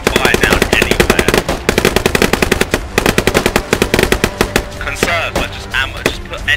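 Gunfire in the video game Squad, with loud, rapid machine-gun bursts and single shots cracking repeatedly in close succession.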